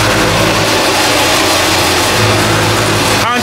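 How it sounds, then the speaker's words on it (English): A chocolate conching machine at the Hershey Story grinds and mixes chocolate with giant granite rollers, giving a steady loud mechanical rumble and whir throughout, with a brief extra clatter near the end. "Conch machine is going."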